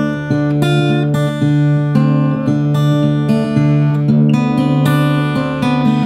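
Acoustic guitar in DADGAD open tuning playing a deep, mysterious blues etude, steady picked notes over ringing low drones, loud and close with no talking.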